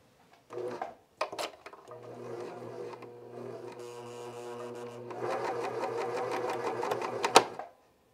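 A cover stitch machine fitted with a double fold binding attachment runs in short bursts, then hums steadily with a rapid mechanical chatter that rises toward the end before stopping abruptly, close by and alone.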